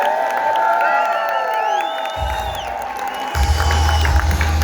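A crowd cheers and whoops for Blue Elam at a Life Vantage Momentum Academy event, with shouts rising over a steady roar and swelling louder near the end; no applause is clearly picked out.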